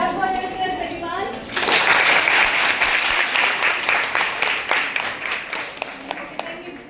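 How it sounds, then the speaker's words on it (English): Participants at a communication skills workshop for girls burst into sustained applause after a moment of talk, a dense, near crowd of clapping that thins toward the end, with a few voices mixed in. "Okay, clap for yourselves, everyone."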